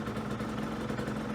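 A small Aprilia motorcycle engine idles after a cold start, a steady low, even rumble heard close up with no voices.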